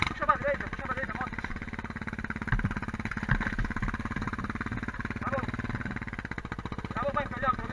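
Off-road motorcycle in a carnival TT ride near Viana do Castelo, its engine chugging and revving at mid distance with a rapid, pulsing throb, while people talk over it.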